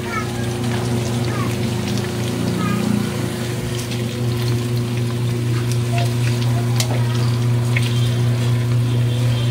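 Milkfish (bangus) frying in a pan, a steady crackling sizzle with a low continuous hum underneath, lasting throughout at moderate loudness.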